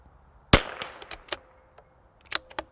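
A rifle gunshot cracks sharply at a range, followed by a scattering of lighter clicks and pops, then a cluster of quick sharp reports near the end.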